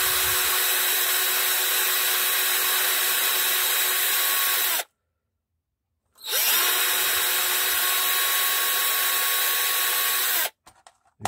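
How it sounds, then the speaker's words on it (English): A power drill boring a small pilot hole dead center for a TV remote-controlled volume control, whining steadily and loudly for about five seconds, then a short pause before a second equally steady run, and a brief final burst. "now you must drill in the middle here, exactly in the middle, a pilot hole"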